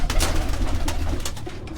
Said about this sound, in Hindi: ये बड़े कबूतर हैं जो